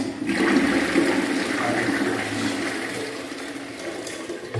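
A toilet that is being repaired flushes in a bathroom, a steady rushing gush of water that keeps running close by for the whole stretch, with no talk over it.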